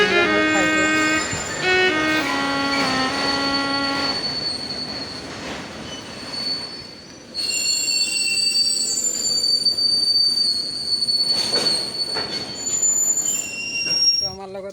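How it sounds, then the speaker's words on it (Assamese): A train passes through a station with loud, sustained, high-pitched wheel squeals that shift and fade, then return over a rumbling rattle of carriages. A voice is heard faintly in the background. "আৰু ট্ৰেইন যাই আছে, চাব পাৰে ট্ৰেইন হয় এইটো।"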